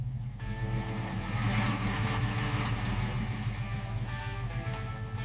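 Restored Mercedes engine idling steadily, a loud continuous low rumble with a faint hum above it, running evenly throughout.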